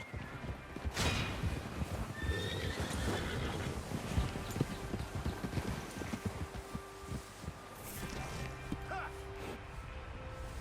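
Horses gallop with steady rapid hoofbeats while whinnies and neighs ring out over wind and rumbling, a busy continuous outdoor scene from Red Dead Redemption 2.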